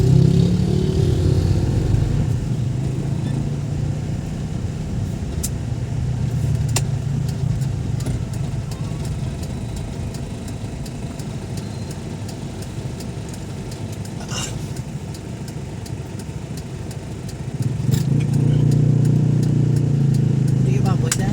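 A motorized tricycle's engine putters and drones close by, fading somewhat mid-pass and then swelling loud again near the end, with talk going on over the engine.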